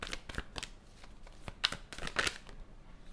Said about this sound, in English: let's grab some tarot cards to expand on this